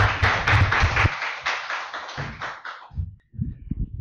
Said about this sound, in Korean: 연사의 연설을 힘찬 박수로 맞아보겠습니다